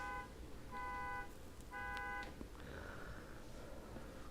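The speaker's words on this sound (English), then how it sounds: "People so rude sit there and let their car honk for no reason." A car outside honks three times in a steady, evenly spaced pattern, each tone lasting about half a second, heard faintly and at a distance with no talking.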